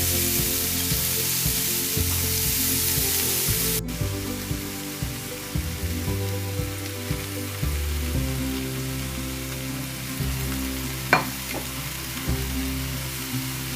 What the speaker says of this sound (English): I'll stir this and I'll mix it well.